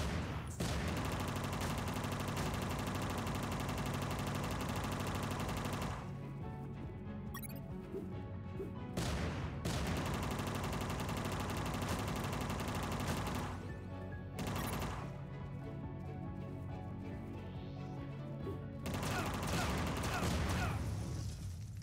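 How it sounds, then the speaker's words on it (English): Bursts of rapid machine gun fire from the video game Unmetal during a boss fight against a machine-gun-wielding enemy, long dense volleys broken by short pauses, loud and close, mixed with game sounds. "You destroyed my machine gun."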